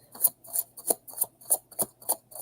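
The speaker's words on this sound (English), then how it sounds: "Now I got my shuffle on." A deck of tarot cards is shuffled in a quick, even series of about eight crisp riffling snaps, close and fairly loud, with no talk over them.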